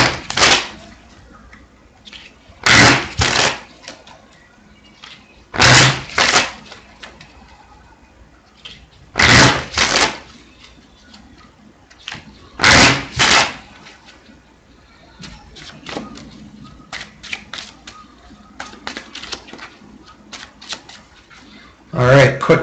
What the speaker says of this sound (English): So let's do a quick shuffle here.